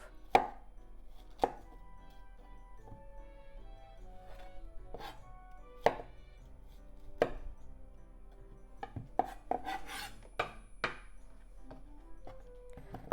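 A knife slicing an onion into thin slices on a board for shrimp and onion kakiage tempura, irregular crisp chops ringing out alone, some spaced and some in quick clusters, close and clear.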